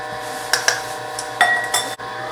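A metal tablespoon clinks against dishes in a home kitchen, giving a few sharp ringing taps spaced apart over a quiet background hum.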